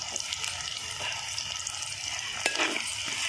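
Curry leaves sizzle and crackle in hot oil for a village-style country chicken curry, a steady close frying hiss with scattered pops and a brief sharper burst near the end, no talking.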